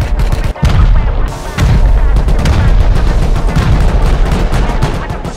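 Rocket launcher blasts during a base raid in the game Rust, a loud near-continuous barrage of booming explosions and heavy impacts with only a brief gap, dense and overwhelming throughout.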